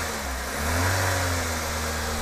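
A Toyota Avanza or Daihatsu Xenia VVTI engine runs during a test after repair for overheating and oil leaks, a close, steady mechanical hum with a slight rise in revs partway through.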